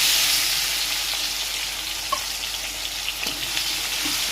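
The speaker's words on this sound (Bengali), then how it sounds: "পেঁয়াজটা ভাজা হতে থাকুক" Chopped onion frying in oil with cumin seeds in a pan, a loud continuous sizzle that eases slightly over time, with an occasional soft clink of a utensil.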